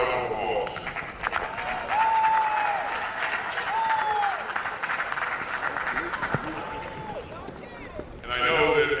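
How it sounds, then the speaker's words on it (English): University commencement crowd applauding parents, a broad wash of clapping from a large outdoor audience with scattered whoops and shouts, swelling again near the end. "I want you to give them another round of applause."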